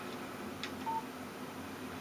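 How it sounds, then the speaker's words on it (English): A short electronic tone from a phone text message alert in the video game Alan Wake, a brief faint beep over a low steady background hum. "Text message from Barry."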